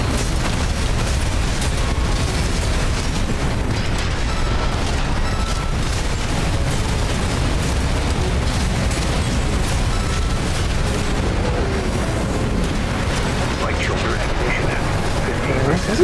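Grenade blasts and heavy weapon fire from the mech combat game Armored Core VI pound without a break, a loud, dense wall of booming explosions and rumbling battle noise.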